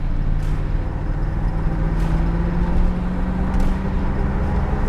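A black 1982 Chevrolet Corvette coupe's engine drones steadily under moderate throttle from inside the car, a loud continuous low rumble with a rising tone as it accelerates and shifts smoothly.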